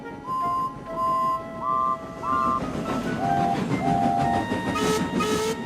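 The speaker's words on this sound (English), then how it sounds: "The guard's whistle blew, and Rheneas departed promptly from the stat" A guard's whistle sounds at a railway station platform, several short high shrill blasts in succession over the rumble and clatter of a steam train.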